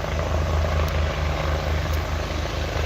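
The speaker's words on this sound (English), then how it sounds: "another helicopter coming through" A helicopter passes overhead with a loud, steady rotor thump and engine roar filling the whole stretch, close and continuous.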